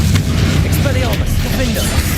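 A Confringo blasting spell explodes in the video game Hogwarts Legacy, a loud, dense booming rumble amid continuous battle noise and grunting voices.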